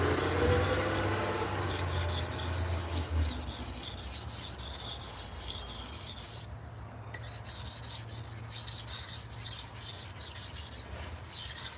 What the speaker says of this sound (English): We did a lot of sharpening. This is our 7th knife.